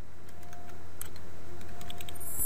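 Keys tapped on a computer keyboard while entering commands to set up a Cisco ASA 5510 firewall, a handful of light, close clicks spaced irregularly over a faint steady room hum, with no talking.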